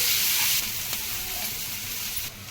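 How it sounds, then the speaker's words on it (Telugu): Sliced onions and green chillies fry in hot oil in a pan, giving a close, steady sizzle and hiss with no talk. "ఉల్లిపాయలు ఒక 5 నిమిషాలు వేగాలండి దోరగాను."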